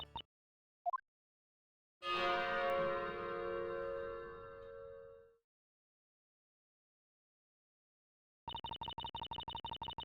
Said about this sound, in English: I just really want to ring that bell.